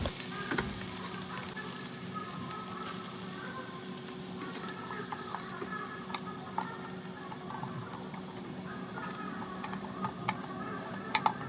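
Steady sizzling and bubbling of blended roasted onion and tomato sauce frying in a pan, with occasional scraping and clinks of a spoon stirring, continuous and close.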